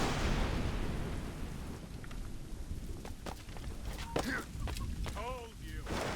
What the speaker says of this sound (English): This storm's getting worse.